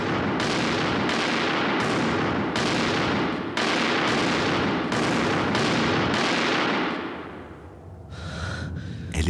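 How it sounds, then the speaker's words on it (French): A pistol fired at the floor in a kitchen, about nine loud close shots in quick succession, each with a ringing tail that merges into dense echo before fading. "Il file à la cuisine, dégaine et tire vers le sol."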